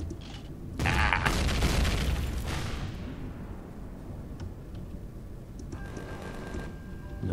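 A loud, heavy boom of cannon fire from a mech in the video game Empyrion - Galactic Survival erupts and rumbles away, followed by quieter mechanical clatter and a second burst near the end.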